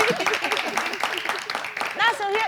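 Eugène claps his hands in a string of quick, scattered claps under steady talking in French.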